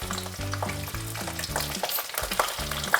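Eggplant frying in a pan alongside tomato, onion and garlic, a loud close sizzle with stirring scrapes running continuously throughout, no voices.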